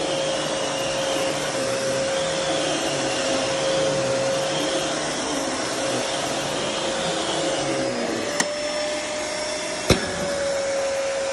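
Fantom Crosswind 600XL vacuum cleaner running continuously at close range, a loud steady motor whine with a sustained tone and airflow roar, broken by a couple of sharp clicks near the end.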